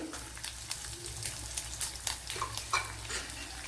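Ginger and garlic sizzle softly in a frying pan, with a steady quiet crackle broken by light scraping and stirring taps.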